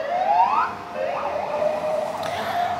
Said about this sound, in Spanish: Y una ambulancia que pasa